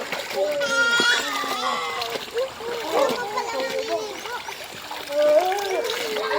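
Water splashing in a rural stream where people bathe and wash clothes, a lively, continuous splatter with children's voices and chatter mixed throughout.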